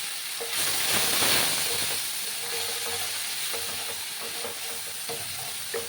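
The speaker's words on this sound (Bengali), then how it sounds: "আবার কাঁচা গন্ধটা না যাওয়া অবধি আমি একটু ভেজে নেব।" Spices with green chillies fry in a pan for a vegetarian potato-and-pumpkin curry. A loud, continuous hiss and sizzle runs close throughout, with faint stirring knocks underneath.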